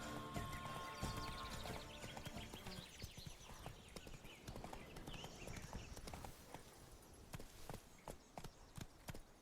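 Roach the horse gallops in The Witcher 3: Blood and Wine, a rapid, continuous clatter of hooves over ground with a brief whinny near the start, fairly close and steady, the pace loosening toward the end into sharper separate hoof strikes.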